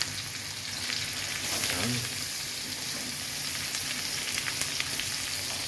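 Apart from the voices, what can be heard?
ginger sizzling as it is added to frying pan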